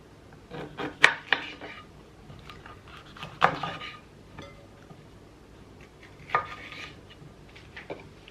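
A knife chops bell pepper into pieces on a board, with scattered sharp knocks and clatters, a few louder strikes standing out, close and fairly quiet.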